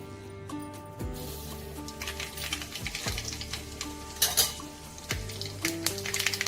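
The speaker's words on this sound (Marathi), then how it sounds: "चला तर आपलं तेल चांगलं तापलेलं आहे। आता आपण त्यामध्ये राई टाकणार आहोत," Mustard seeds dropped into hot oil for a tempering of monsoon wild greens, a steady close sizzle with sharp crackles and pops, plus occasional clinks of a utensil against the pan; no one speaks.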